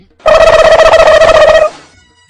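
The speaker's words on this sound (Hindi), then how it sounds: "चलो कॉल करके देख लेते हैं" A phone call being dialed in a comedy sketch: a loud, steady electronic ringing tone runs for over a second, then cuts off and fades quickly, with no voices.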